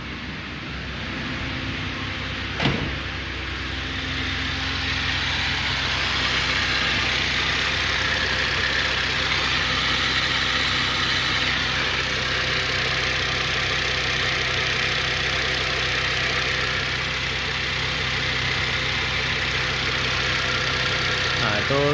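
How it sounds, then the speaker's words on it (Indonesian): A car engine running on thinner-than-recommended 0W-20 oil idles steadily and close by, a continuous low rumble with a faint ticking texture and one brief knock early on. "itu suara mesinnya pakai oli"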